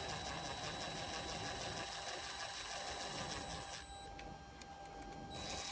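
A power driver briefly snugs down a bolt on a CFMoto 300NK/300SS motorcycle during its first service, a close, steady whirring motor run with a short dip in pitch, no talking over it.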